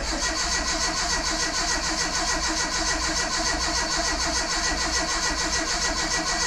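A car being started for the first time after a year and a half of restoration work, its engine catching and then running steadily and loudly at idle throughout, with no voices.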